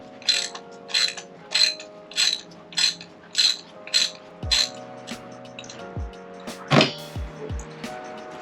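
A ratchet works on the spark plugs of a Lincoln MKX, sounding as a steady series of about eight short clicking bursts, then a few sharper metallic clanks and knocks near the end, with no talking.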